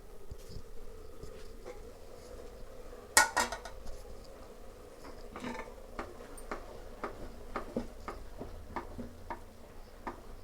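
Aloo samosas deep frying in hot oil, with a steady low bubbling broken by one loud clatter of a pan or utensil and then a run of light, regular ticks and taps from the cookware.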